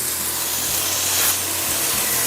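A texture sprayer shoots orange peel drywall texture onto plastic sheeting in a steady, loud hissing spray with no talk.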